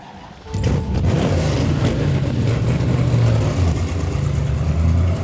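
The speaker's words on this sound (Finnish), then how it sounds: "Ensin me työnnetään 200 metriä tuota autoa ja sit se käynnistää sen avaimesta." A 1966 Ford Mustang hardtop's engine catches after a push start and settles into a steady, loud, rumbling run, close by and without talk.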